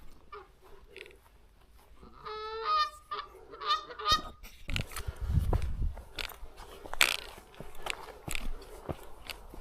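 Geese on a small island colony with ducks honk in a loud, repeated alarm chorus at an approaching human, sharp calls tumbling over one another close by, with rustling and scuffling underneath.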